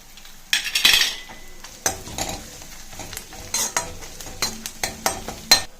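Ginger and garlic frying in a pan for dosa potato chutney, with a spoon stirring and scraping against the metal in repeated bursts and a soft sizzle underneath, close and fairly loud, no talking.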